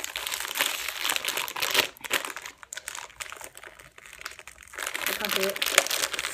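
Thin plastic blind-bag packaging is crinkled and torn open by hand without scissors, a loud continuous rustling and crackling close up, while someone talks over it.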